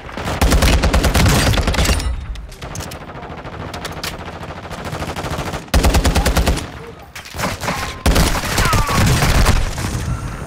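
Rapid automatic gunfire from Call of Duty: Modern Warfare II duo multiplayer: loud, dense bursts that start, pause and resume several times in the clip, with sharp cracks layered over heavy rumbling.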